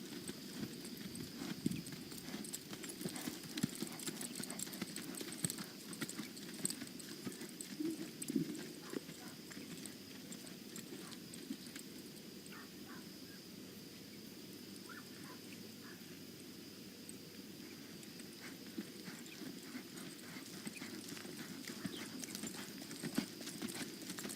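Horse hooves clip-clopping steadily during training, a soft repeated rhythm of hoof falls against a continuous background hum, with occasional faint talk.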